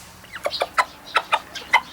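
Sebright chickens in a coop clucking: a quick series of short, sharp clucks in an irregular rhythm, close and clear over a quiet background.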